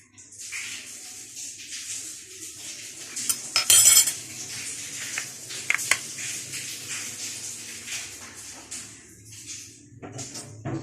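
Spoonfuls of cinnamon, cumin and ginger go into a pot for a cold-remedy drink; a metal spoon clinks and scrapes against the pot with a few sharp taps, close up and without speech.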